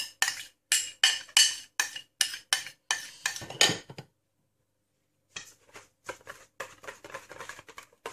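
A utensil scrapes leftover cupcake batter from a mixing bowl in a quick run of rhythmic strokes, pauses, then resumes with lighter, scattered scrapes and clinks, close and clear with no talking.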